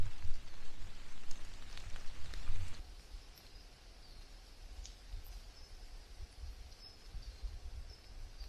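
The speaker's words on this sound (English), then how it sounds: "The rain has slowed down a bit" Rain falling in a forest during a bushcraft outing, a soft steady hiss of drops on leaves and ground, heavier for the first few seconds, then easing to a quieter, even patter with a few scattered drips.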